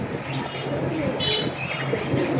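Green-necked pigeons cooing in a pigeon seller's collection at a market, a continuous low murmur of soft coos layered with bird chatter and busy background noise.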